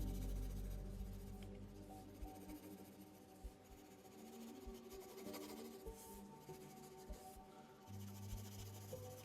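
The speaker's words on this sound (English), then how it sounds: "Now I'm just going to move to the flat edge of my pencil and just add a little bit of shadows around the eyes and the face." A pencil shades on paper while a lion is being drawn, with the flat edge rubbing around the eyes and face in soft, faint, continuous scratchy strokes with a few light taps.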